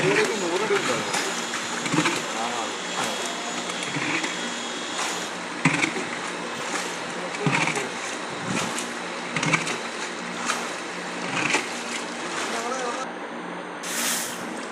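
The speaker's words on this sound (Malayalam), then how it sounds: "മോട്ടർ വെച്ച് പമ്പ് ചെയ്ത് തന്നെ ബോറിനകത്തേക്ക് വെള്ളം ഇറക്കുന്നത്" Motor pumping water through a hose into a borewell, a steady droning engine hum running throughout while people talk over it.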